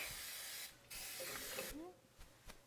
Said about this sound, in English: I'm using a coconut spray, so just gonna do that so they don't stick.